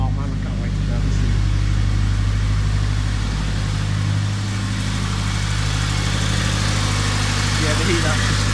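A turbocharged Honda Integra Type R idling just after its first start, a steady low droning rumble with a slight dip and swell in pitch midway, close and constant, with a voice speaking over it.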